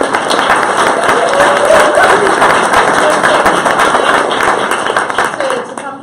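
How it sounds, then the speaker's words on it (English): An audience at an evening talk on intersectional feminism and biking breaks into warm, steady applause, dense clapping from a crowd sustained for several seconds before tapering off. "Everyone, please give a warm round of applause for Jen and all of us"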